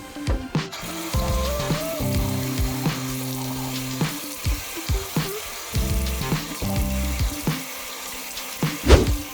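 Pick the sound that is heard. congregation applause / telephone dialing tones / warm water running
warm water running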